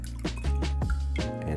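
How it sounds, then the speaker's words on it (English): Buffalo Trace Kentucky bourbon poured into a jigger, a short, close, soft liquid glug and drip with a few gentle splashes, alone. "Today I'm gonna be using Buffalo Trace Kentucky Bourbon, and I'm gonna do about 2 ounces of that."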